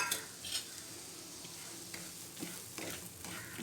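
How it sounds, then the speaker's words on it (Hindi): Half a bowl of semolina (rava) is dry-roasted in a pan over medium heat, with soft, faint scraping and stirring strokes and a light gritty rustle of grains, repeated at an uneven rhythm. "हमने हाफ कटोरी रवा लिया है और इसे अच्छे से भून लेंगे"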